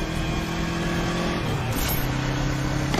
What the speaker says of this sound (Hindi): ये कैसा शोर है? प्रसाद बाबू बाइक लेकर निकल गए हैं।